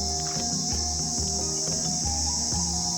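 Crickets chirp at night in a quiet outdoor spot, a loud, steady, dense pulsing chorus close by with no other sounds.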